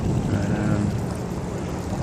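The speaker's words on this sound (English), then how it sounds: "Okay, we've got the little motor revving." A small electric motor fitted to a kayak hums steadily on the water, a low continuous drone with wind rushing across the microphone and no talking.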